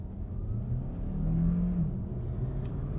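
A 2022 Hyundai Tucson plug-in hybrid pulls away from a stop in sport mode, a steady low rumble and engine drone building gently and heard from inside the cabin.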